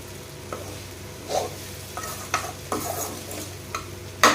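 Okra (vendakkai) frying in a pan, a steady crisp sizzle punctuated by a handful of sharp scraping stirs at irregular intervals, close and moderately loud with no talking.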